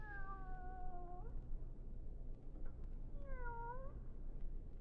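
A cat meows twice in an old-time radio drama, two long drawn-out wailing mews separated by a short pause, heard clearly over a steady low background hum.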